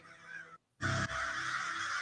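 Birds out hunting bugs call loudly in a harsh, honking chorus, breaking off for a brief moment before a dense, continuous burst of calls resumes nearby.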